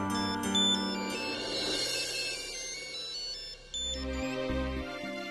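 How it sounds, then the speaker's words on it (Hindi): A phone ringtone plays continuously with a tonal electronic melody, steady and moderately loud, with no talking over it. "मैं अजीत को फोन करके देखती हूँ।"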